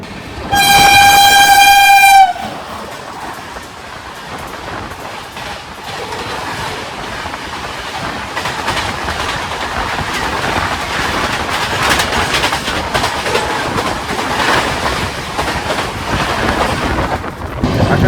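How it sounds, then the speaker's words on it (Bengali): The Howrah–Chennai Mail passenger train rumbles along the rails with a steady clatter after leaving Ichchhapuram, opening with a loud horn blast; the running noise continues for the rest. "আমাদের ট্রেন ছেড়ে দিল হচ্ছে ইচ্ছাপুরম থেকে"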